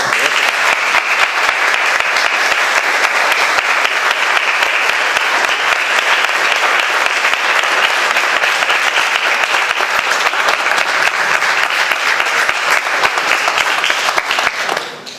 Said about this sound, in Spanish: Vamos a darle un fuerte aplauso a los nuevos